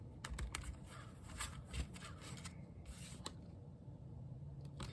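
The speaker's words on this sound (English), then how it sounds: "All right, so let's do some shuffling." Soft, rapid riffling and flicking of tarot cards being shuffled in quick bursts, close by, with light tapping clicks scattered through; no voices.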